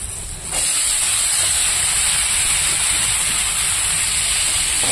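Dhenki greens drop into a pan of hot oil with fried onion, garlic and chilli, setting off a sudden loud hiss. The close, steady sizzle then continues unbroken.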